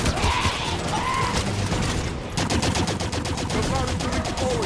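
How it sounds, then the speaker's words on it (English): Turret gunfire in the Halo 5 game, a fast, loud, rhythmic burst of rapid shots that hammers on steadily for several seconds, heard alone with no talk. "Ready for turret fire!"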